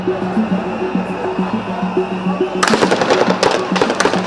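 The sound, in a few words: gunshot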